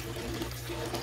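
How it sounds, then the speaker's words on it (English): Tap water running into a pot, a brief, steady splashing stream at moderate level over a low background hum. "And then you're gonna put some water in."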